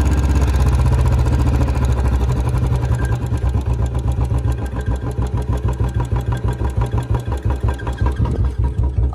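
Royal Enfield Bullet BS4 motorcycle engine slowing from a fast idle to a very slow, loping beat, each firing pulse distinct and close.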